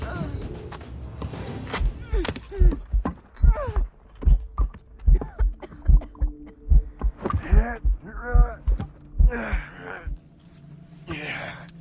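Heartbeat in Assassin's Creed Rogue: a loud, steady, regular series of deep thumps that runs throughout, with gasps and heavy breathing layered over it.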